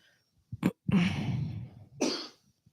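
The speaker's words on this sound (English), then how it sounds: "This cough is killing me." A person coughs in a few sharp, close bursts: two quick short coughs followed by a longer, raspy, drawn-out hacking cough, then a final throaty cough, with no talking.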